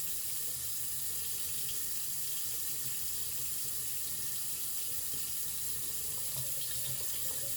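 Tap water runs steadily into a sink while hands are rinsed, a continuous close hiss with no talking.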